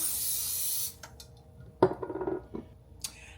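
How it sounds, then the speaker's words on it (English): A steady hiss of cooking spray for about a second, followed by a few light clicks and taps. "Now I'm going to go ahead and add more spray."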